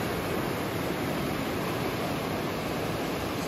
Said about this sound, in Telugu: పంబా నది,